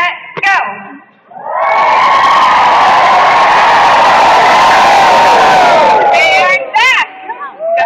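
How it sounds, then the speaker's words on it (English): A group of people scream together in a loud, sustained roar lasting several seconds as they stand up during a Phoenix spring sprint event, with brief shouts and voices before and after. "And scream as you stand up."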